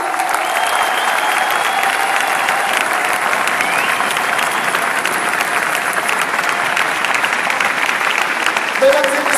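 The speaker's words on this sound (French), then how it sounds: "c'est lui, on l'applaudit." An audience at a Decathlon innovation awards evening claps for the YouFit inventor, sustained and loud, with even clapping filling the whole stretch and a faint crowd murmur beneath.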